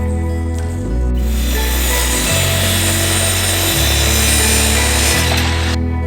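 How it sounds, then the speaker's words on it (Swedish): A loud power saw cuts wooden boards to length in several long passes, its motor pitch stepping between strokes, close and continuous with no talking. "Camilla förbereder genom att såga upp alla längder."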